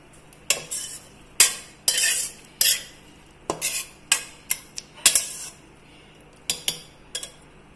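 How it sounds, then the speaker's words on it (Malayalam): Mango pieces are tipped into cooked spinach in a pot for a Kerala aviyal, giving a series of close, sharp clinks and scrapes of a utensil against metal in irregular bursts. "ഇനി ഇതിലേക്ക് മാങ്ങ ഇടാം."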